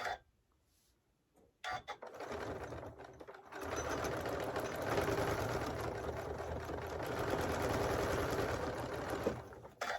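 A sewing machine stitches a lined drawstring mini backpack along a chalk line, starting after a quiet pause and then running as a steady mechanical whirr. It stops briefly near the end and restarts.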